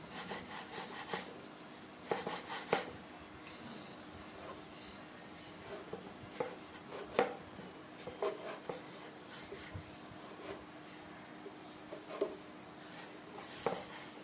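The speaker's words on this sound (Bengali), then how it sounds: "এই যে সবগুলা একই সাইজে স্লাইস করে নিতে হবে প্রত্যেকটা স্লাইস একই সমানে" A knife slices ingredients into even pieces for chusi pitha, making a series of quiet, irregular cutting strokes and taps on a board with pauses between them, no voices.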